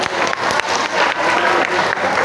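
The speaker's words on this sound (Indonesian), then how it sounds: "Oke, tepuk tangan buat Mbak Dila." Schoolchildren at a junior high school religious gathering applauding a classmate, a steady wash of many hands clapping together, loud and sustained throughout.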